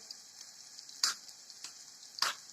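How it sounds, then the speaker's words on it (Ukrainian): Soft, continuous sizzle of meatballs frying in a pan, with a couple of sharper pops and crackles rising above the steady hiss. "Поки смажиться там тівтілі в сковорідці"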